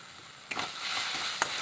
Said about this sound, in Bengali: যতক্ষণ না মশলা থেকে কাঁচা গন্ধ চলে যায় আমি ততক্ষণই কষিয়ে নেব